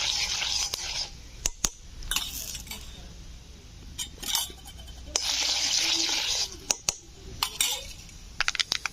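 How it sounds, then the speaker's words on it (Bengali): Black mustard seeds fry lightly in hot oil as a tempering for a mango chutney, giving bursts of hissing sizzle and crackle broken by clinks of a metal utensil, with no talking. "তো কালো সর্ষেটা দিয়ে হালকা একটু ভেজে নিতে হবে"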